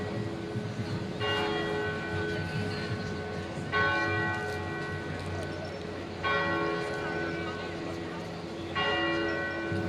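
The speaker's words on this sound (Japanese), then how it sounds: "ちょうどいいタイミングで鐘が鳴った" Church bells ring out in Florence, struck in repeated clear peals about every two and a half seconds over a busy outdoor hum, moderately near and loud.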